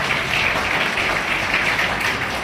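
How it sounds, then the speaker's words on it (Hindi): Loud, steady applause from an audience at a school function at DAV Model School, Suliyari, welcoming the principal, with a continuous wash of clapping throughout. "इनके लिए भी जोरदार तालियों से स्वागत करें"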